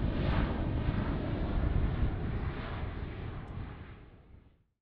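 Roar of military aircraft passing over at the 78th anniversary celebration of the Indonesian armed forces, part of a 92-plane joint flypast by air force, navy and army; a loud, broad rumble that slowly fades away and ends.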